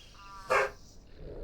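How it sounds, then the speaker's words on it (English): A collie barks once at a stranger arriving at the house, a single sharp, fairly close bark standing out against a quiet indoor background. "The dog barking is our dog that you can hear."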